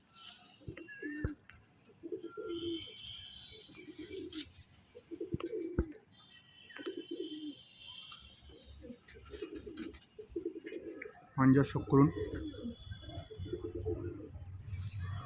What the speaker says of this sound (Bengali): এইগুলো সব পুরনো ব্লাডের পায়রা